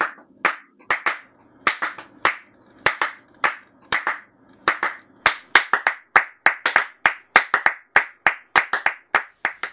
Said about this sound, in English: I recorded his claps first on that track.